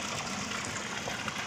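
A river beside stacked stones flows with a steady, close, broadband rush of water, continuous and even throughout with no talk.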